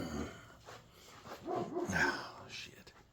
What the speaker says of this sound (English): My dog's got to start barking now.